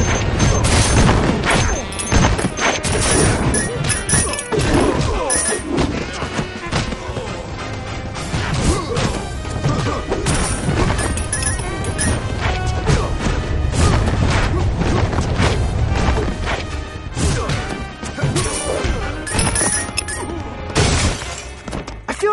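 Glass ceilings smash again and again in Batman: The Brave and the Bold video game, a dense run of loud shattering crashes and breaking impacts over busy game action.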